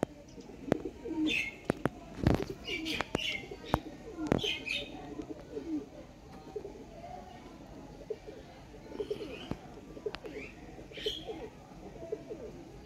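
A pair of Ferozpuri pigeons coo near the microphone in soft, repeated low bursts, with wing flaps, chirps and a voice talking faintly in the background.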